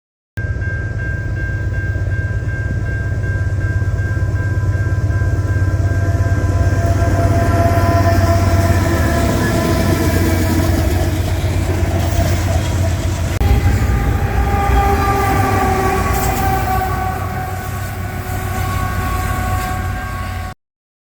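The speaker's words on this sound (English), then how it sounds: "I went out to the train yard at night to try to see if I can see any trains, and I saw this southbound intermodal" Southbound intermodal freight train passing a train yard at night, a loud, sustained rumble and rolling clatter of wheels on rails with a deep engine drone, steady for about twenty seconds before fading slightly.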